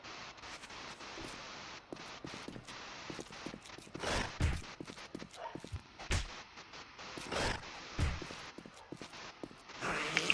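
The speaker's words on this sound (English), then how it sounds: "They beating on the doors there." Zombies pounding on doors in the 7 Days to Die video game, heard as repeated heavy thuds in uneven bursts over a noisy background.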